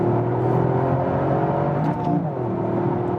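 A 2021 Toyota GR Yaris with a 261 hp AWD engine idles and hums from inside the cabin, then gives a quick rev blip as it downshifts on a wet road; the engine note is steady and close.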